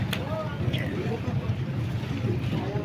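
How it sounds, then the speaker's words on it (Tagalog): A motorboat without outriggers runs on freshwater, a low steady engine rumble with water and wind noise throughout, and a voice talking over it. "Yung bangka na walang katig."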